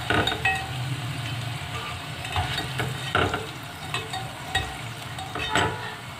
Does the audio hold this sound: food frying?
yes